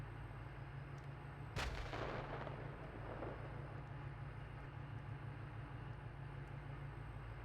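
Tank main gun firing in the Steel Beasts Pro PE simulator: a single sharp, heavy blast followed by a brief rumbling decay over a steady engine drone.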